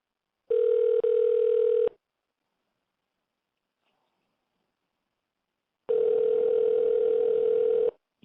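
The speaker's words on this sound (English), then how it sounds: "Let's dial them up." Telephone line tones during a call: two steady tone bursts, each about one and a half seconds long, separated by several seconds of silence, clear and alone.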